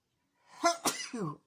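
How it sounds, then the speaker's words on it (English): A single close sneeze, a short sharp burst followed by a brief breathy, voiced tail, in an otherwise quiet room. "Very professional of me sneezing there"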